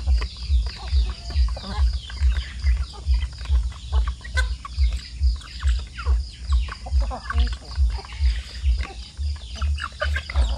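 Zampen native Philippine chickens cluck and call, mixed with other bird chirps over a loud, steady rhythmic low hum, and a person speaks in the background.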